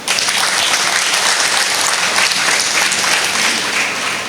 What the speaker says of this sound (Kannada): ಚಪ್ಪಾಳೆ ಕೊಡಿ.